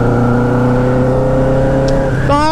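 Turbocharged Yamaha XJ6 motorcycle engine running close by, a steady loud drone that climbs into a quick rising rev near the end.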